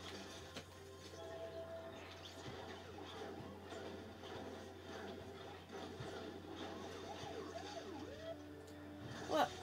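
A faint, wavering police car siren sounds distantly and quietly over a low background hum.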